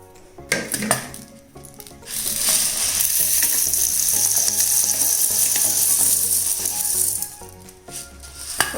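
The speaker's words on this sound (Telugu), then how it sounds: "ఇలా మిక్సీ జార్లో వేసుకొని దీన్ని పొడి చేసుకుందాం." A mixer grinder whirs loudly as it grinds roasted lentils into powder in a steel jar, rattling bursts at the start then a sustained harsh grinding roar for several seconds before stopping, close and without talk.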